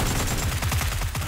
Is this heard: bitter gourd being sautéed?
no